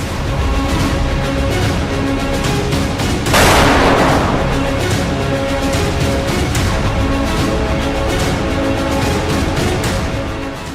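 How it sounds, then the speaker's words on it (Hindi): Russian tank shelling and gunfire in Kharkiv, Ukraine, with a tank firing from a forest edge: one loud blast stands out near the start over a steady, dense roar of sustained fire throughout. "एक जगह तो एक रूसी टैंक जंगल की तरफ से दनादन गोले बरसाता दिखाई दिया।"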